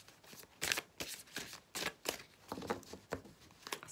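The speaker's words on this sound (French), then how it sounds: "C'est des grandes cartes, en effet, j'ai un peu de mal à les brasser" Large Kitsune oracle cards being shuffled by hand, a run of soft, papery riffling bursts repeating irregularly, close and fairly quiet, with no talking.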